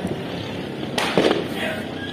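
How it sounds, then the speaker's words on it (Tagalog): Fireworks exploding on New Year's Eve, one loud burst with crackling near the middle, heard at some distance over a steady background hiss, with no talk. "Nakikinood lang kami na ano, fireworks."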